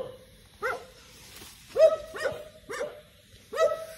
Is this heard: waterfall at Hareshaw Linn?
no